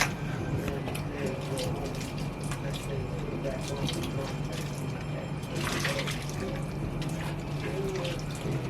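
Water runs steadily into a bathroom sink basin as a blonde 613 lace wig is washed, a continuous splashing wash with occasional drips, close by, while a person talks over it.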